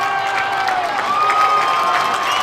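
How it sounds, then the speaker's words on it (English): Loud, sustained crowd ovation from Port Neches-Groves fans on the south side of Galena Park ISD Stadium at a high school football regional final, with continuous cheering, clapping and shouts blending into a steady roar. "what an ovation from this Port Neches-Groves partisan crowd on the south side of Galena Park ISD Stadium"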